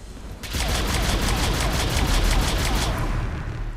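Rapid automatic fire from the ADAS weapon in Mass Effect 3 bursts in as a dense, loud stream of repeated shots, running continuously for about two and a half seconds before tapering off.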